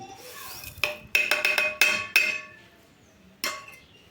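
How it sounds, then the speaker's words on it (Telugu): Roasted urad dal pounded in a stone mortar for a village-style chutney: a burst of sharp, ringing stone-on-stone strikes in quick succession, then a single later hit, close and fairly loud with no talking. "మినపప్పు మెత్తగా దంచుకోండి"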